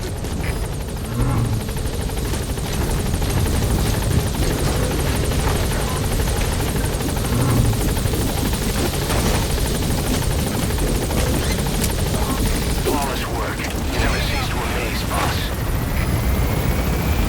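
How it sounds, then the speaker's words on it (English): A helicopter lands in the Metal Gear Solid V: The Phantom Pain video game, its steady loud rotor roar filling the whole stretch with faint crackles and shots mixed in. "Alright, the chopper's touching down."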